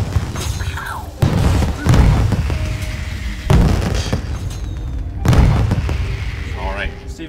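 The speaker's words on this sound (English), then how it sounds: "Just sort of a celebratory firework" Celebratory fireworks in the Creativerse video game, four booming bursts spaced a second or two apart, each followed by crackling decay, with voices talking over parts of it.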